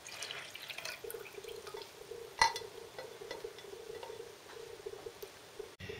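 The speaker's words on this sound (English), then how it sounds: "And now add the milk with the corn flour into the pan." Milk mixed with corn flour is poured into a pan for a Cypriot-style panna cotta, a faint, steady trickle with light drips and a single sharp clink partway through, with no voices.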